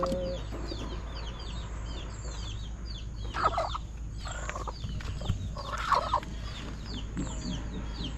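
A hen settling onto eggs clucks and murmurs softly, with a few louder squawks in between, over a steady low background hum.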